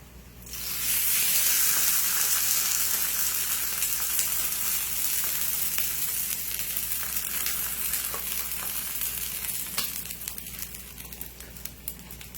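Birria tacos frying in grease, a dense, loud sizzle that swells in after a second and crackles steadily for the rest of the clip, close up with no talking.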